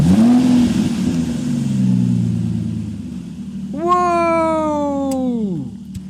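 A car engine revs up loudly and then winds down over a few seconds, following a cat-like yowl and low rumble earlier on, with no talking.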